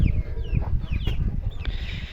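Young chicks cluck and chirp close by, several short calls over a busy, rumbling background.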